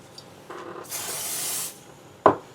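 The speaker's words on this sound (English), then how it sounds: "You can probably hear my pixie spray going in the background there." Pixie spray bottle misting in a craft room, a broadband hiss lasting just under a second, preceded by a softer brief puff and followed by a sharp knock.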